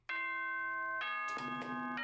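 A doorbell chime from the Danganronpa: Trigger Happy Havoc video game rings out as a bright, clear sequence of sustained bell tones, close and loud, with no talking.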